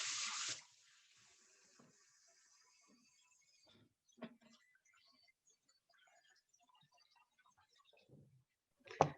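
Hands washed under a running kitchen tap, a short gush of water at the start and another brief splash at the end, with faint clinks and handling noises in between.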